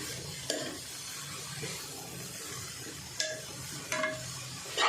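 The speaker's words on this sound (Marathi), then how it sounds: "मी अगोदर ढाकण नाही ठेवणार आता असे हलवूनच शिजून घेणार" Shredded cabbage cooks uncovered in a pan while being stirred, with a low steady sizzle and a few sharp spatula clinks against the pan. No one speaks.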